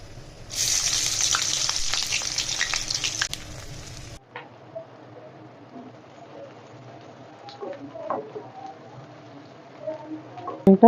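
Sliced onions frying in hot mustard oil in a wok give a loud, dense sizzle for about four seconds, then cut off abruptly to a quiet background with faint clinks and scattered small sounds.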